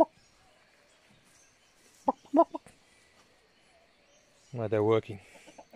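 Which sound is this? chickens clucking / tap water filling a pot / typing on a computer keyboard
chickens clucking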